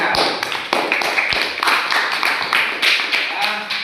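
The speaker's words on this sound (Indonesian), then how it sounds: "Tepuk tangan untuk kawan kita." A group claps steadily in a classroom or study session on the Qur'an, the applause dense and continuous with no pauses, close and fairly loud.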